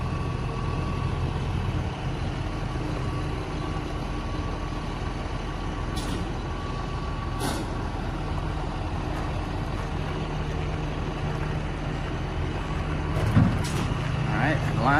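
A hydraulic tail on a 2017 Ledwell trailer lowers over a steady truck engine idle, a continuous low drone with hydraulic hum and a few sharp hissing releases and clunks near the end.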